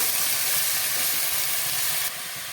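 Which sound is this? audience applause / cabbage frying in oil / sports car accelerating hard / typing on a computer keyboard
cabbage frying in oil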